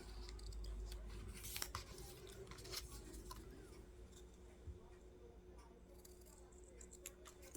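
Scissors trim paper for a media journal in a quiet room, giving faint, sparse crisp snips and small clicks at irregular intervals, close up.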